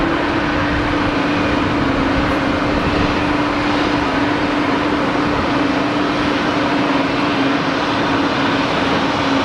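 An aircraft at Geneva Airport produces a loud, continuous engine roar with a steady droning tone that stays close and constant throughout.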